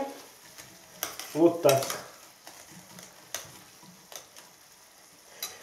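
Mint stirred into Bulgarian-style grape snails frying in a pan, giving a soft steady sizzle with scattered scraping stirs and clinks, one busier burst early on, while a voice speaks briefly.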